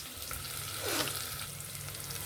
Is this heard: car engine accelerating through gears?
no